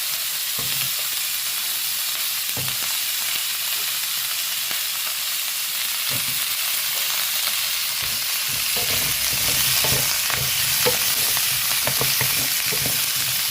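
Onion and coconut sauté in a pan for a chicken curry: a dense, continuous frying hiss with occasional stirring scrapes and taps, close and steady throughout, with no voices.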